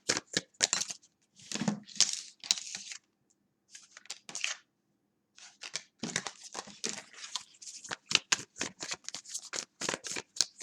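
A deck of tarot cards is shuffled by hand in quick, close bursts of riffling and flapping, pausing briefly before another series of brisk shuffles.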